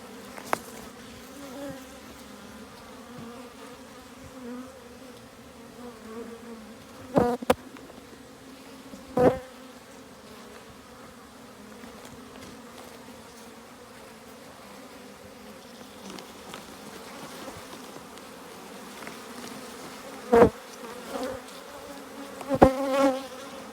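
Many honeybees buzz steadily around a beehive frame, a constant close hum lasting the whole stretch, broken now and then by short knocks and clunks as the frame is handled.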